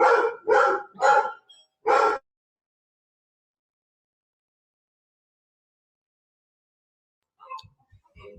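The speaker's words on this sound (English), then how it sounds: "obviously my dog has joined the meeting today" A dog indoors gives four sharp, loud barks in quick succession. After them comes a long silence, and then a faint short sound near the end.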